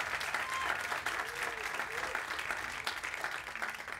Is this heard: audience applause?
yes